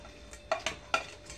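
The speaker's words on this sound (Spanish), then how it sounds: "Ahora metemos las patatas." Potatoes tipped into a pan for a Spanish tortilla, heard as three quick clattering knocks of utensil against metal over a faint sizzle, close and fairly quiet.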